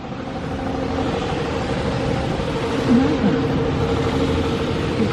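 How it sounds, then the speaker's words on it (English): A pump runs inside a self-serve car wash bay at a Taylorsville, Utah Bolt Wash, giving a steady, loud mechanical rumble and drone that holds throughout with a slight swell near the middle. "You can hear the pump in there."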